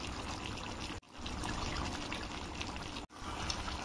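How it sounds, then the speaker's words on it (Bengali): Ghee poured into a thick kabuli chickpea curry, a continuous, close liquid pouring sound broken by two brief pauses. "এবার এখানে আমি দেবো গরম মশলা, 1 চামচ গরম মশলা, 1 চামচ ঘি।"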